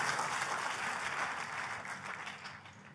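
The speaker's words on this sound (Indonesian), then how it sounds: "Tepuk tangannya yang paling meriah buat Tuhan kita." Dense clapping from a large group fills the space evenly, fading slightly toward the end.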